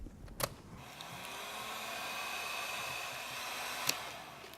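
A heat gun shrinks heat shrink tubing over wiring with a steady, breathy blowing roar, and two sharp clicks mark the start and end.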